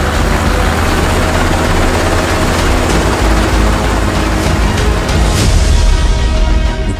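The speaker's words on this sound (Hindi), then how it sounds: "हेलीकॉप्टर से सर्च ऑपरेशन" A helicopter on a search operation thunders close overhead, its rotor beating in a loud, steady low throb that fills the whole stretch.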